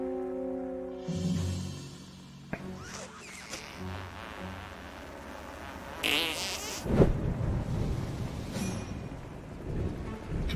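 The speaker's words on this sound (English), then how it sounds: "Control the fart with the mouse when the fart's where you want." A cartoonish fart sound effect in the video game South Park: The Stick of Truth, a drawn-out sputtering rumble amid layered game sounds and music, with sharper bursts partway through.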